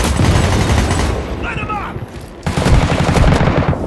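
Gunfire in the video game World War 3 during a team deathmatch in Moscow, loud dense bursts of shots packed together, easing briefly before another burst of rapid firing, close and harsh.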